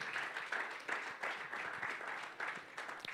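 A seminar audience keeps clapping as a panelist walks up to join a discussion on East African activism, steady, moderately quiet applause with a loose pulsing rhythm and no voices over it.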